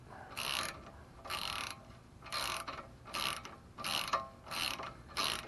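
A ratchet tightens the tie rod crown nut on a 1995 Toyota Camry in about seven quick bursts of close, dry clicking separated by short pauses, with no talking.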